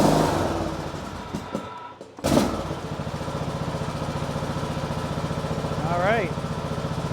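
The brand-new engine of a John Deere 100 Series lawn tractor is started on choke. A crank and a short pause lead into a steady, close idle with a fast even pulse, and talk briefly overlaps.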